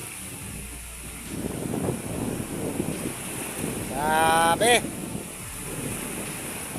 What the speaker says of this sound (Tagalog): Maalon na maalon.